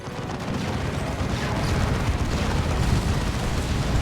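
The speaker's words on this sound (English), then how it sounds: "Cyclone Missile Launch goes in." A Cyclone missile launch in a Warhammer 40,000: Dawn of War 2 3v3 match sets off a loud, continuous barrage of rumbling blasts and booms that builds slightly and sustains for several seconds.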